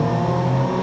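In the racing video game Forza Motorsport 2 on Xbox 360, a car's engine drones loudly and steadily at close range during a brief moment of hard braking.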